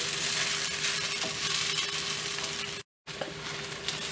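Taro root (arbi) masala fries crisply in a pan while being stirred, a continuous close sizzle with occasional light scrapes, and a momentary silent break just before it resumes.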